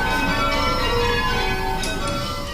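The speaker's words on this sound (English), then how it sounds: "the workers here at Taylor's often spend their lunch hour ringing their own bells" Bells rung at Taylor's bell foundry, workers pealing their own bells: loud, overlapping metallic strikes with long sustained ringing tones blending into a continuous clangor.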